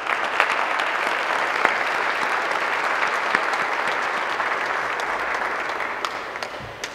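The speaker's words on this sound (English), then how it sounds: "parents, give these freshmen a round of applause" Parents at a high school freshman pinning ceremony applaud in a steady, dense round of clapping that holds for the full seven seconds with no voices over it.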